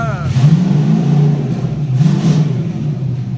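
A turbocharged 5.3 LS V8 with a 92mm turbo and wastegate, warming up on a dyno, holds a loud, steady low idle rumble with slight rises, while people talk over it.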